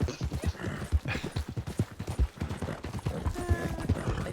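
Horse hooves clip-clop in a steady, close rhythm during a winter endurance race in Red Dead Redemption 2, with game ambience and a brief voice behind them.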